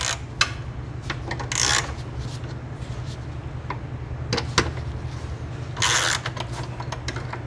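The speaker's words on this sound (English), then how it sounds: "So I'm gonna try to take these 2 bolts out in increments." Socket ratchet working on driveshaft bolts of a 2014 Jeep Cherokee, short bursts of clicking amid clanks and handling noises under a low steady hum.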